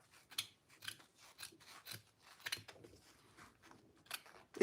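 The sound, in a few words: scissors cutting off excess fabric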